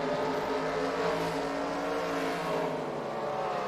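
A race car roars around the dirt oval at Devils Bowl in Texas late in a feature race, its engine a loud, steady, unbroken drone that holds close and full for the whole stretch with no talk over it.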